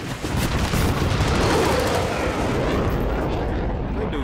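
Continuous loud gunfire in Call of Duty: Modern Warfare, a dense wash of rapid shots and explosive bursts, steady throughout and fading slightly at the end.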